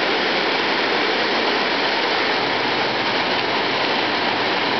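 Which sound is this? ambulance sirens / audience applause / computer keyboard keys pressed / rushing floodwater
rushing floodwater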